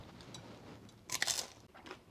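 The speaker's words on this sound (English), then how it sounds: "I love the crunch of those fresh veggies in there." Fresh raw vegetables in a meat-and-bean appetizer being crunched and chewed close up, several crisp crackling bites clustered together and then a quieter chew trailing off, with no talking.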